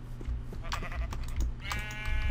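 Sheep bleating in the Minecraft video game, several short repeated bleats in a loud, close game soundscape with no talk.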